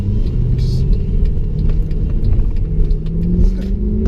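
Steady, loud road rumble from inside a moving car, with continuous low engine and tyre noise throughout and small bumps and rattles on top.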